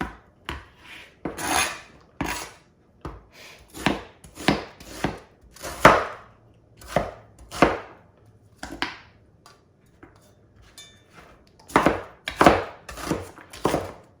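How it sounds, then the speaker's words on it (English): Vegetables chopped with a knife on a board in a home kitchen, giving a long run of sharp, close thuds in uneven bursts with brief pauses, loose and unhurried. "I'm not paying attention to how I chop them at all"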